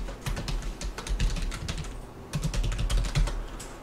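Rapid, steady clicking of keys on a computer keyboard while entering AutoCAD commands, close and clear with a brief pause midway and no talking.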